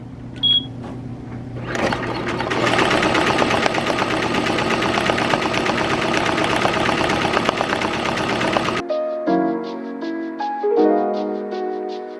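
A Tajima TMBP embroidery machine stitches a cap, a loud, rapid mechanical chatter running steadily for several seconds before stopping into a brief series of electronic tones.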